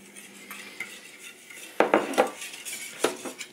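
Sugar, egg whites and shredded coconut being mixed in a bowl, with a few sharp utensil clinks and scrapes against the bowl between softer stirring sounds, close by.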